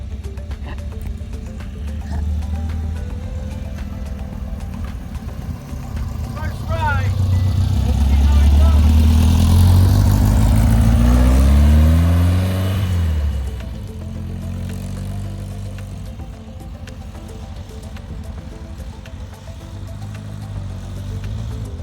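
A restored 1967 car idles with a low rumble, then pulls away with a swelling engine roar that peaks and eases back to a steady drone, close by, while people talk throughout.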